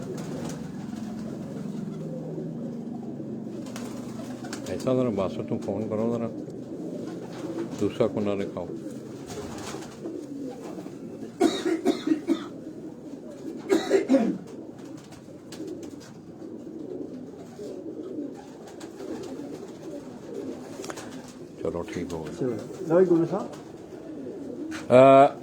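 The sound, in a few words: Kabli pigeons cooing on a rooftop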